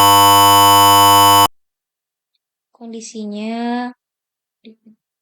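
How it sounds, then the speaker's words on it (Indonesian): An IoT device's buzzer sounds loudly with a steady continuous tone for about a second and a half, then cuts off abruptly, followed by silence and then someone speaking. "maka dia akan bunyi buzzernya akan bunyi terus"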